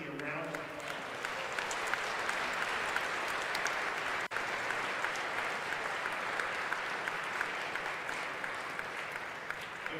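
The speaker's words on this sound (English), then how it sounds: "So let's give MIPT a round of applause." A large audience at an ICPC World Finals dress rehearsal applauds the event host, sustained dense clapping that holds steady for the whole stretch with a brief dropout midway.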